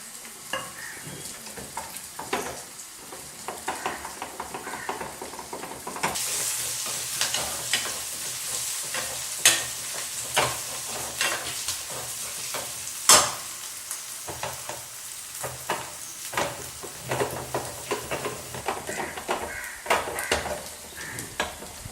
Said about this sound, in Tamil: வெங்காயம் வதங்குறதுக்குள்ள நம்ம ஆற வச்சுருக்க அந்த கத்திரிக்காயை இதை மாதிரி ஒரு மத்து வச்சு கடைஞ்சிக்கலாம்